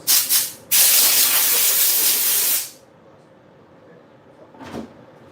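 Aerosol spray cans hissing in a knife handle workshop: two short bursts, then a long loud continuous spray of about two seconds, followed by a quiet room and a faint brief sound.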